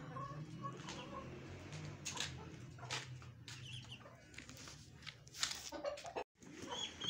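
Aseel chickens cluck and call inside a cage beside a nesting hen sitting on eggs, with a steady low hum underneath and a brief dropout near the end.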